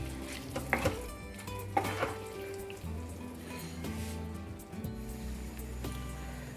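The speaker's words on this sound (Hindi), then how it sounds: "और सब चीज़ों को अच्छे से मिक्स कर देंगे हल्के हल्के हाथ से" Vegetables tossed and stirred in a pan with kasuri methi for a restaurant-style mixed veg, giving soft scraping and clinking of a spoon against the pan with a few louder knocks, steady and close, with no talking.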